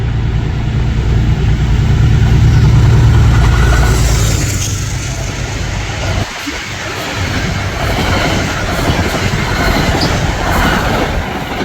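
A P32 locomotive-hauled passenger train on the Metro-North or Amtrak line at Riverdale roars past close by, loud and continuous with rumbling wheels and rail clatter throughout.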